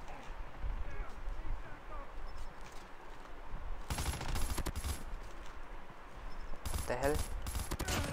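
Rapid M16 rifle bursts in the Call of Duty Mobile video game crackle in dense clusters around the middle and end, layered over steady game noise, with a player's voice talking briefly.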